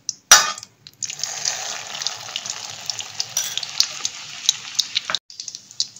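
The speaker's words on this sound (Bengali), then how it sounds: "এবার আর একটা একই প্রসেসে আর একটাও আমি ভেজে নিচ্ছি" A Maggi noodle and egg cutlet ball fries in oil with a continuous, fairly loud bubbling sizzle that lasts about four seconds. Sharp crackles pop through it, with a short clatter before and after.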